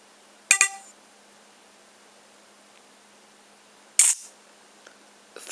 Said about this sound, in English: Let me just turn on the sound. Take a picture for you.